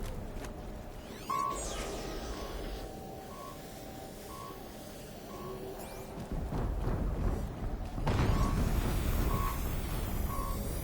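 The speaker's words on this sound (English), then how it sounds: "What's that beep beep beep?" Repeated electronic beeping from the game Horizon Zero Dawn, a regular series of short tones over a low rumbling background with heavier blasts later on, moderately loud and with no voices.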